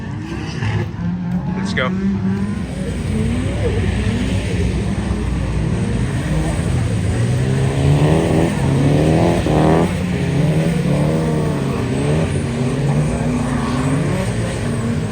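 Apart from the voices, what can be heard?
car drifting and revving at a tuned car meet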